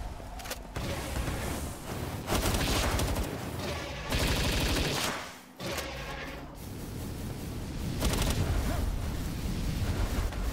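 Assault rifle gunfire in the video game Palworld, dense and continuous automatic shooting with explosive booms mixed in, loud and close, with a brief lull partway through.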